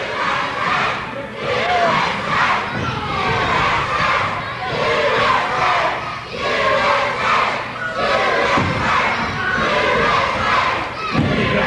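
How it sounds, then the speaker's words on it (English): Crowd at a lively event chanting USA, a loud rhythmic mass of voices rising and falling in repeated bursts with occasional thuds, speech faintly under it. "Here comes that USA chant again."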